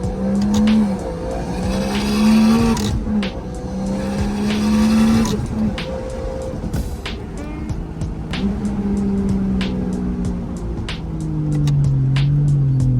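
Loud car engine revving up and down repeatedly, with high-pitched tire squeals cutting through at intervals, sustained throughout.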